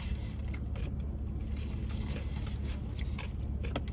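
Fried shrimp crunches in a series of short, crisp bites and chews, close and fairly faint against a low steady rumble of background noise.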